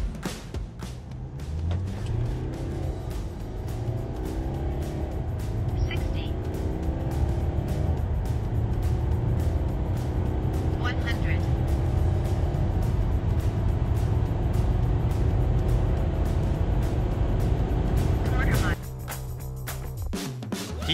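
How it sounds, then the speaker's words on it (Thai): Mercedes-Benz GLC 220d AMG Dynamic turbodiesel accelerating in comfort mode, a steady engine drone and road roar building smoothly from inside the cabin, ending in a sudden drop in level near the end. "Mercedes-Benz GLC 220D AMG Dynamic โหมดคอมฟอร์ต3 2 1"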